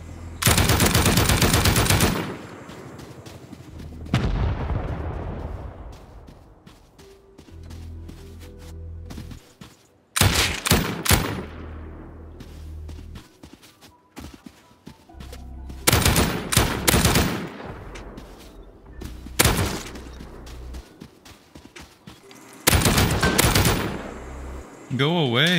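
Bursts of rapid automatic gunfire shooting down turrets in a loot-room raid, loud clustered volleys repeated several times with echoing tails and quieter gaps between, close and harsh.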